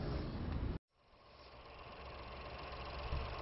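Ford Focus 1.0 EcoBoost three-cylinder turbo engine idling, a steady low mechanical hum and rumble heard close up, starting just after a brief cut near the start.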